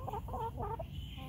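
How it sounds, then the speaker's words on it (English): A few soft, low clucks come in quick succession from a chicken nearby, fairly quiet against a rumbling background. "I still have my chickens."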